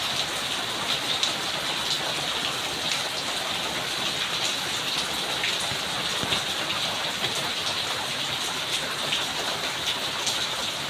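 Heavy rain pours down in a sudden outdoor downpour, a dense, steady roar of drops hitting surfaces that stays loud and unbroken throughout, with no voices over it.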